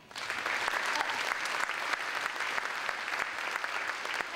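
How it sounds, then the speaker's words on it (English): Audience at a school district event gives dignitaries a warm round of applause, dense sustained clapping from a sizable crowd that swells slightly toward the end. "A warm round of applause for all of our dignitaries"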